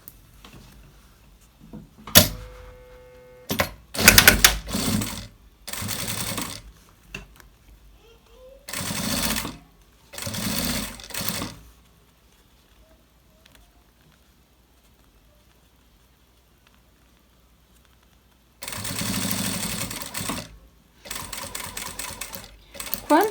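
A sewing machine stitches bias binding onto fabric in several short, rapid whirring bursts, separated by quiet pauses as the work is adjusted.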